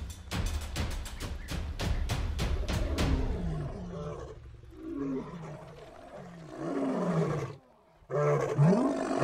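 Several lions roar in a Roblox lion game, a run of loud, deep, repeated roars at first, then lower groaning calls that trail off, with a brief gap before a last call.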